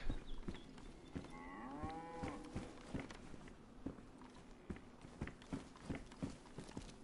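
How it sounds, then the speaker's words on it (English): A cow moos once, a faint strained bellow in the DayZ video game, heard at a distance over steady footsteps crunching and thudding in a regular walking rhythm throughout a quiet scene. "I just heard a cow shriek."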